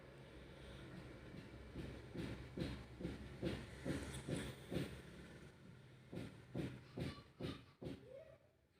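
A pressure cooker of potatoes, switched off, hisses out steam in rhythmic puffing bursts, roughly a dozen quick pulses that fade toward the end.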